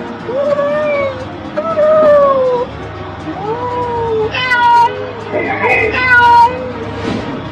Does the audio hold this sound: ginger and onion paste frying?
no